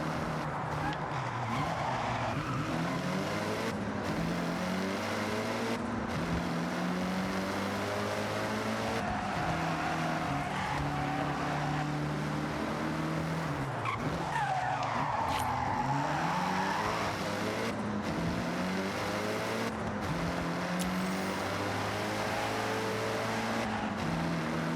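Off-road driving in the Forza Horizon 6 racing game, a rally car's engine droning and shifting pitch steadily over loose gravel and dirt, with tires skidding and scrabbling throughout at close range.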